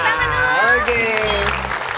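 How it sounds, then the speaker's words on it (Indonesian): A studio audience at a television talk show applauds the first team, clapping loudly and continuously under voices and cheering. "Tepuk tangan dulu."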